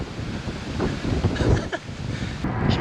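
Headwind while cycling on a long road ride, a steady loud roar of wind buffeting the microphone with gusty surges throughout.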